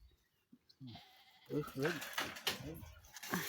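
Several wavering bleats from a young lamb sound close by, mixed with a person talking and some rustling.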